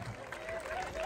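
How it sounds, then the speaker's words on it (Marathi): An audience applauding at a lively comedy event, a short steady wash of clapping, moderately loud, with voices mixed in. "टाळ्या वाजवा."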